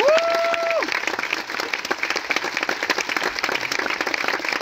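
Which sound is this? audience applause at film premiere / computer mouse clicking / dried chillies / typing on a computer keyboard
audience applause at film premiere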